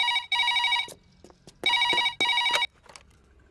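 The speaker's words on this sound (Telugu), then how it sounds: "1/2 గంటలో రింగ్ ఇస్తానంది." A telephone bell rings in two short bursts separated by a brief gap, bright and electronic-sounding, near and fairly loud, with no talk over it.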